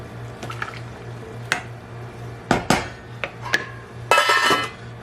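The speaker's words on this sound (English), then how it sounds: "I'm going to throw my lentils into that vegetable broth. Just going to give it a stir." Lentils go into simmering vegetable broth in a pot and get stirred, with spoon clanks against the pot, wet liquid sloshes and a burst of splashing near the end, close and moderately loud.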